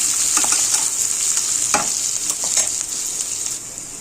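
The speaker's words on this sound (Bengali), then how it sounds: "এখন এটা একটু লাল লাল করে ভেজে নেব।" Chopped onions frying in a pan for a chicken roast, a steady bright sizzle with occasional stirring scrapes, close and continuous, no talk.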